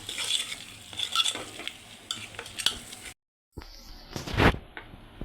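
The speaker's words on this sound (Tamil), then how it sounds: "வதங்கந்தோம் நம்ம அரைச்ச பொருள் மசாலா போட்டு கலந்துடணும்" Ground masala paste stirred into mushrooms frying in a pan for a mushroom gravy, with a steady sizzle and repeated scraping strokes, a brief gap, then a louder burst of stirring close by.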